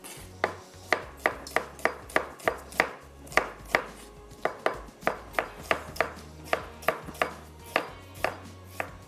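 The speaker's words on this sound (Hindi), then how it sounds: "बस जब आप इसको काटें तो 1 कप जो है फुल भर के आपका 1 कप स्लाइस का हो जाए" A knife slices onions on a cutting board in a quick, even rhythm, with about two dozen crisp, close chops that repeat steadily and no speech over them.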